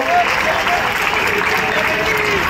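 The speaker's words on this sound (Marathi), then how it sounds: "आदरणीय देवेंद्रजींचं सगळ्यांनी टाळ्या वाजवून अभिवादन करत स्वागत करावं अशी मी विनंती करतो" A large crowd at an election campaign rally in Bhusawal claps to welcome Devendra, a dense, continuous roar of hands that stays loud and even throughout.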